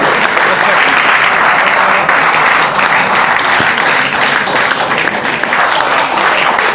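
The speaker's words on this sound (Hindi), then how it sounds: "तालियां हो जाए जोरदार, तालियां रुकी नहीं है, जब तक केक कट रहा है" Loud, sustained applause from a crowd at a celebration while a cake is cut, a dense roar of clapping close up and steady throughout, with some voices mixed underneath.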